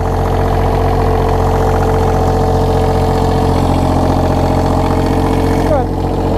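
An engine runs at a steady idle while warming up in 10-degree snowy cold, a constant loud rumble with a faint knock in it throughout.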